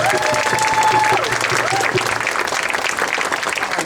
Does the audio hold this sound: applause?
yes